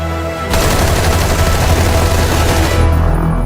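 Loud, sustained burst of rapid gunfire in the video game Metal Gear Solid, erupting suddenly and rattling on for a little over two seconds before cutting off.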